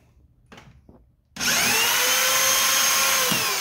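A power tool trimming brass rifle cartridge cases while reloading starts abruptly after a couple of soft handling knocks, then runs as a steady, loud high-pitched whirring grind.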